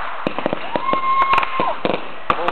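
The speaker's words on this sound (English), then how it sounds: "Hope you've been enjoying my family fireworks show." Fireworks at a family fireworks show pop and crackle in scattered bursts, and a rising whistle streaks through the middle. The bangs are moderately close over a steady background hiss.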